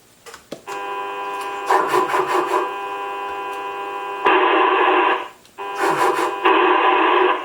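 Mustang CB 1000 radio keyed up in PA position pushes steady hissy transmission noise with a held tone through a speaker, swelling in louder bursts and cutting out briefly before resuming, no voices.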